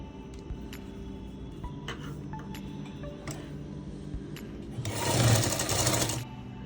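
A sewing machine stitches a cloth bag. A soft mechanical hum with ticking runs through the clip, then swells into a loud, dense burst of fast running stitches near the end.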